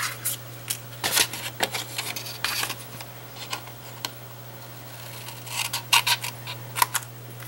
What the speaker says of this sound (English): And I use my scissors